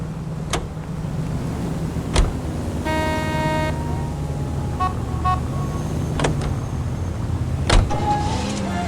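Car in the LA Noire video game idles and hums steadily, with a short mechanical whir, clicks and door-like thumps scattered over the engine drone.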